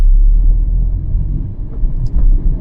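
A car's engine rumbles loud and close from inside the cabin in city traffic, just after a downshift from fourth to second gear, holding a deep, steady drone with slight swells.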